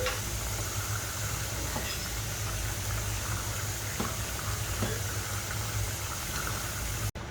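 Beef and white onions fry in a pan with a steady, close hiss and crackle of broadband sizzling that carries on evenly throughout, broken by a few faint scrapes of stirring and no talking.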